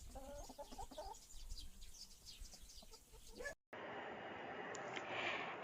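A flock of farm chickens clucks and calls in short, scattered bursts, fairly faint, then gives way to a dense, steady outdoor wash of noise.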